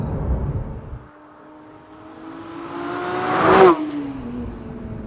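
A Porsche 911 992 GT3 with a naturally aspirated 4-litre flat-six revs up steadily, the engine note rising and swelling to a loud peak before dropping away sharply, heard from outside with no talk.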